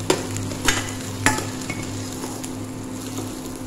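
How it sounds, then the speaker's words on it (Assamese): Onions fry in a pan for an egg curry, a steady sizzle beneath a low hum, with a few sharp spoon scrapes and clinks against the pan near the start and no speech. "মই এতিয়া খুব ধুনীয়াকৈ ৰঙচুৱাকৈ ভাজি ল'ম পিঁয়াজখিনি"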